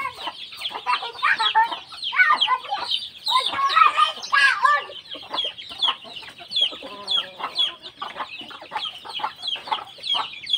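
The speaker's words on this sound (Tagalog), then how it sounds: "Tingnan yung mga alaga ating manok dito." Native backyard chickens cluck busily while being fed rice, a close, continuous chatter of overlapping clucks and short calls rising and falling throughout.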